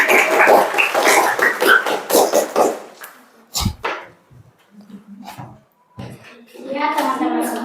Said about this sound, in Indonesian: berikan tepuk tangan dulu buat Nova.